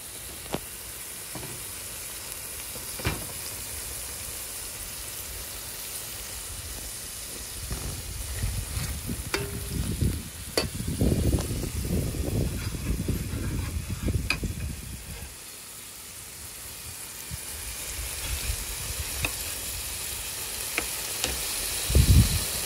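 Masala for a Gilbaka fish curry fries in a pan with a continuous sizzle, while bursts of scraping and stirring rise and fall over it, close and moderately loud, with no speech.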